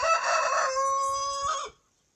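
A backyard rooster, recently freed from its no-crow collar, lets out one loud, close crow that holds steady for well under two seconds before cutting off into silence.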